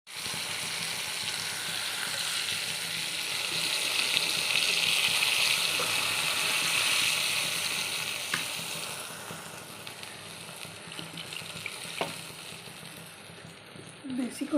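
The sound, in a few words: water poured into pot of potato curry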